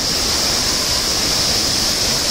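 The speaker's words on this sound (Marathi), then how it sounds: "काय तो धबधबा" A loud, steady roar of falling water fills the scene, constant and close, with no voices.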